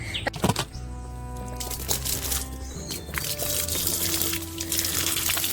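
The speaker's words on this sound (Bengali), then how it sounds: "প্রথমে এগুলোকে আমি কিন্তু পুরো গাছেতে জলটা ভালো করে দিয়ে নিই" Water splashes and trickles steadily into the soil of a potted China orange plant being repotted into a plastic tub, a continuous close pour with small drips and gurgles.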